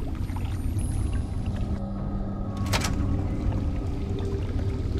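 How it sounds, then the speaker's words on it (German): Continuous water sounds in the video game Fallout: A Tale of Two Wastelands, a steady flowing and pouring wash with a brief splashing burst midway, in an echoey space. "Ich höre überall Wasser."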